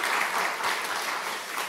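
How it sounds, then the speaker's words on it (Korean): A short burst of dense applause of thanks from a church congregation, loud and steady throughout, with no voices over it. "미리 좀 감사의 박수 함께 보내도록 하겠습니다"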